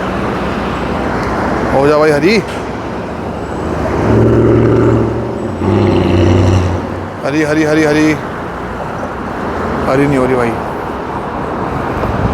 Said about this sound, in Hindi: ये ट्रैफिक रुके तो चले हम।